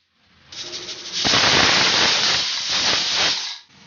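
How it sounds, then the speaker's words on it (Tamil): A pressure cooker cooking ven pongal lets out a loud, close hissing whistle of steam, swelling and holding for about three seconds before cutting off. "3 விசில் வந்தாச்சு."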